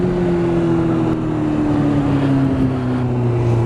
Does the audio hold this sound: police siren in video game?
no